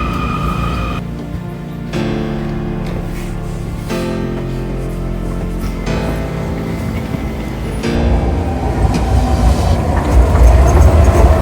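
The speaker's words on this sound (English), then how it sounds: "we made it onto the train to the Therme" Train near Munich, Germany, heading to the Therme Erding spa, rumbling steadily from inside the carriage with a low continuous roll and shifting hum that grows louder toward the end, no voices.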